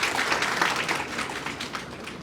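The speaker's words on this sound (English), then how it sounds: "A huge round of applause, everyone." Audience applause at a university lecture event on careers in profession and business, a steady dense wash of many hands clapping throughout, fairly loud and even.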